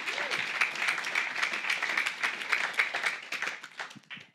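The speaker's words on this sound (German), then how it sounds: "Da darfst du gerne noch mal klatschen" A church congregation claps together at a youth service, a dense, rapid patter of many hands that holds steady, then thins and tapers off near the end, with no talking.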